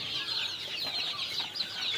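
A group of poultry-farm chickens, some of them ailing, cluck steadily and close by in a continuous murmur of soft calls, with no voices.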